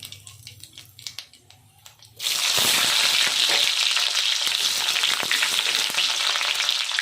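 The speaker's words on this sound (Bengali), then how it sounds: "জিরে দিলাম, জিরে গেল, তেজপাতা গেল, এবার যাবে পেঁয়াজ কুচি" Chopped onion hits hot oil already seasoned with cumin seeds and bay leaf, setting off a sudden loud, steady sizzle that jumps up after a quieter stretch of faint frying and continues close by without letting up.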